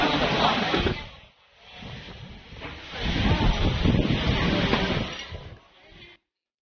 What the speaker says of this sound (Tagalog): Ang lakas talaga ng ulan dyan, saka sobrang hangin